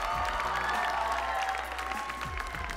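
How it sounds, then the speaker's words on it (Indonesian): A studio crowd on an Indonesian talent show claps for Steven after he places third, a brief wash of applause mixed with sustained musical tones in the background. "Berikan tepuk tangan untuk Steven. Lebih keras lagi untuk Steven."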